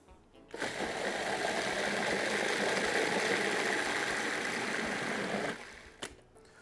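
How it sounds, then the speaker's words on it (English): A food processor whirs steadily for about five seconds while blending pork, cream, chili sauce and salt into pâté, then cuts off sharply. "Start the food processor."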